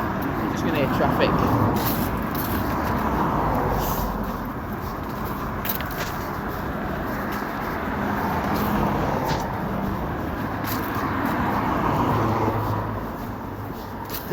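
Steady road traffic on a busy main road during a cold commute, a continuous broad rumble of cars, buses and trucks with occasional brake hiss, heard under a person talking.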